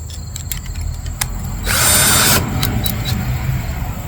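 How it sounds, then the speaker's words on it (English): A power drill bores into pre-marked holes on a farmhouse handrail during a makeover, with one short loud burst of drilling lasting under a second. Faint clicks and quiet room noise come before and after it. "And I'm gonna drill into those holes."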